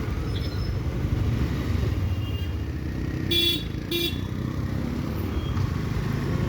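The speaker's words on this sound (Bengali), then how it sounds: "আমার পেছনে একটা গাড়ি খুব জোরে জোরে হর্ন মারছে" A car stuck behind in a traffic jam gives two short, loud horn blasts a few seconds into the clip. Steady engine and road rumble runs underneath throughout.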